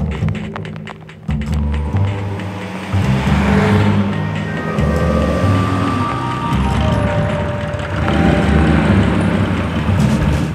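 Vintage rally cars from the Paris Classic rally circling the winding 3.5 km Circuit des Écuyers in poor weather, engines rumbling and revving nearby, swelling as cars pass, with mechanical clatter and no speech.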